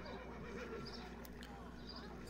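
A horse neighs in the Age of Empires 3 strategy game, a faint whinny set in a steady game soundscape with someone talking over it.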